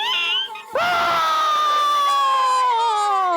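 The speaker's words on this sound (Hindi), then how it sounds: "ये किसकी चीखने की आवाज है?" A loud, sustained high scream cuts in after a brief dip and holds for about two and a half seconds, piercing and shrill, filling the scene alone.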